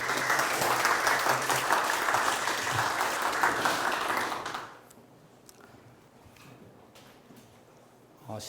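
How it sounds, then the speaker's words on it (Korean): Audience applause greets a lecturer on Japan's emperor system and Christian faith, a dense, steady clapping that fills the room for about four seconds before dropping to quiet murmur and scattered taps. "앞으로 나오실 때 큰 박수 부탁드리겠습니다."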